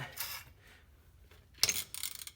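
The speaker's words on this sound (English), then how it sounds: "A 19 millimeter bolt. We loosen that" A wrench works a 19 mm bolt on a Mustang GT suspension's quad shock, producing short raspy ratcheting bursts: one near the start, then a louder cluster toward the end, close by with quiet gaps between.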